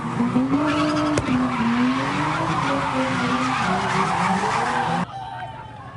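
Car tires squeal and skid loudly in long, wavering screeches as cars swing at a street sideshow, with engine noise beneath, cutting off abruptly near the end.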